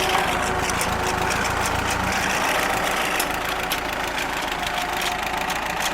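An amphibious Ford tractor engine runs at idle in first gear with the low-range transmission, a steady close chugging rumble with a fine rhythmic knock, unchanging and without talk.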